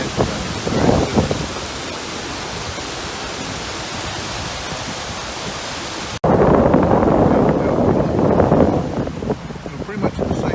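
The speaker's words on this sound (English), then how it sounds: "the noise of the water is just quite loud" Loud, steady rushing of water at the Fairy Pools on the Isle of Skye, a broad roar that fills the whole stretch and swells louder partway through as the position shifts closer to the falls.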